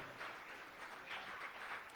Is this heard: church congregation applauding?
yes